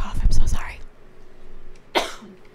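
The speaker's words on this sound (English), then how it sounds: "I have to cough. I'm so sorry." A person coughs, with a cluster of loud, rough, close coughs at the start, a quiet gap, then one sharper single cough near the end.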